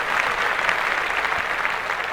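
A short burst of applause, steady clapping from a small group lasting a couple of seconds, with no talk over it.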